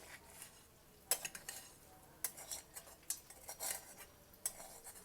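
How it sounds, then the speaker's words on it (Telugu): A ladle mixes tempering into star fruit tamarind rice in a metal vessel, giving soft scraping strokes and several sharp metallic clinks at irregular intervals, quiet and close with no talk. "ఇది కొంచెమే ఉంది కాబట్టి గరిటతో కలుపుదాము"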